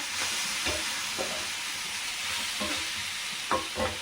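Spices and vegetables for a vegetable kurma roast in a pan with a constant soft sizzle, punctuated by several close scraping stirs of a spoon, no one speaking.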